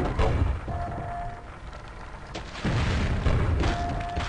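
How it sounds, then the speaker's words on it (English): Grenade launcher blasts in the video game Quake 1, several deep booming explosions with one near the start and a pair later, heavy and loud against a low game background. "Grenade launcher."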